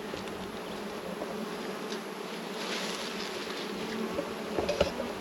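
Honeybees hum steadily inside a nuc box, a dense, continuous buzz heard up close, with a few louder individual bees passing near the end.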